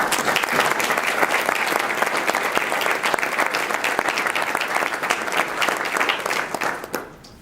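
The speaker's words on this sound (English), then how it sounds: "Let's give them a round of applause." Steady round of applause from an audience at an education awards ceremony, crisp individual claps merging into a full, even roar for several seconds before stopping abruptly.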